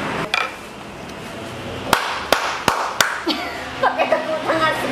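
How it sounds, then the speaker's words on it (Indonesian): Several sharp claps ring out in a café, spaced irregularly over a few seconds, loud and close, with people talking and chuckling around them. "Pakai tepuk tangan segala."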